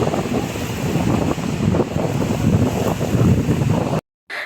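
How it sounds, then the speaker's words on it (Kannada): Sea waves wash around an island, heard as a continuous rushing roar mixed with heavy wind buffeting the microphone, loud and close, cutting off briefly near the end. "ಅಲೆಗಳ ಸೌಂಡು ಪ್ರತಿಯೊಂದು ಅಷ್ಟೇ ಪ್ರಶಾಂತವಾಗಿ ಅನ್ನಿಸ್ತಾ ಇತ್ತು"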